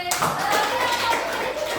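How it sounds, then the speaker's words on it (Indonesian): A middle-school class claps hands in a classroom after the teacher's call, a short burst of clapping that starts abruptly, with a voice audible in the background. "Tepuk tangan untuk kelas 8C."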